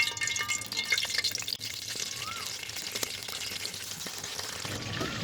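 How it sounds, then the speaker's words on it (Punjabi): Cauliflower fries in hot cooking oil in a karahi, a steady close sizzle and crackle lasting throughout with a few faint clinks and no talk. "ਗੋਭੀ ਨੂੰ ਅਸਾਂ ਉਨੀ ਦੇਰ ਤੱਕ ਫਰਾਈ ਕਰਾਂਗੇ ਜਿੰਨੀ ਦੇਰ ਤੱਕ ਇਹਦਾ ਰੰਗ ਗੋਲਡਨ ਨਾ ਹੋ ਜਾਏ"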